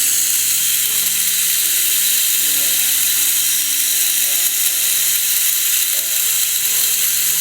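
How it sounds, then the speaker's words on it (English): The mainspring of a Sessions banjo wall clock spins freely on its ratchet after the click has dropped out. It gives a loud, continuous rapid clicking and whirring close by, with no speech. "The click has obviously dropped out of the spring and it's just spinning around on the ratchet."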